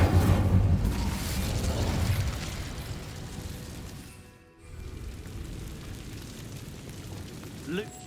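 The Incendio fire spell in Hogwarts Legacy goes off as a dense, rumbling whoosh that is loudest at the start and slowly fades, broken by a brief dip before a quieter rushing tail resumes.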